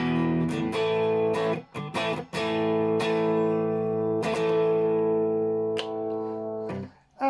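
A clean electric guitar on the neck pickup strums a few chords that ring out and sustain, with brief pauses between strokes.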